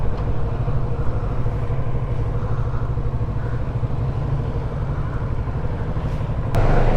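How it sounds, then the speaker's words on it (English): Kawasaki Z650 motorcycle engine under way, a steady, loud mid-pitched drone with low rumble throughout, rising slightly in the final second. "So here we are on a Kawasaki Z650. It is one snatchy throttle"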